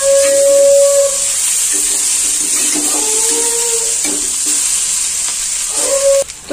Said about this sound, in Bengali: এবার আমি চাউমিনটা দিয়ে দেবো